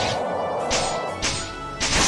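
Dragon Claw attack in Disgaea 6, a series of four sharp slashing strikes spaced roughly half a second apart, each a bright swooshing crash over a sustained effects bed.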